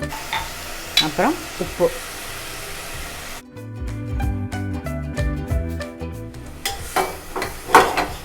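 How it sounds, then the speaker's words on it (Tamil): Onions and tomatoes with turmeric powder sauté in a pan, a steady sizzle with scraping stirs, while someone talks briefly over the cooking. "வெங்காயம் வதங்கிடுது."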